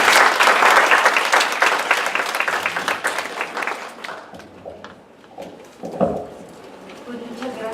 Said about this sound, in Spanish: Y vamos a darle un aplauso